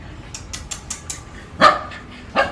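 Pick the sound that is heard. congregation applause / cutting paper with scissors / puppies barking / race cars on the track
puppies barking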